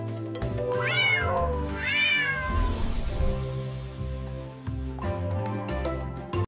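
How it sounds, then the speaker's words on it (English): A cat meows twice in long, rising and falling calls, close and clear, followed by softer lower sounds and a few brief meow-like cries near the end, with no talking. "C for cat."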